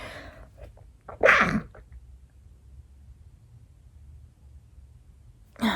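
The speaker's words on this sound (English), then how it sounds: "I'm about to sneeze" A single loud sneeze near the start, preceded by a quick breathy inhale, followed by quiet room noise; a short voice begins at the very end.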